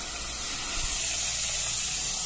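Tap water runs in a home kitchen while kale is washed, a steady, close hiss of flowing water that continues evenly throughout without pauses.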